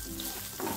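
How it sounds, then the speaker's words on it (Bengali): Pointed gourd (potol) nearly done frying in a pan, a brief close, crackling sizzle with a faint scrape of stirring, no voices. "পটলগুলো তুলে নিতে হবে। ভাজা ভাজা হয়ে এসেছে।"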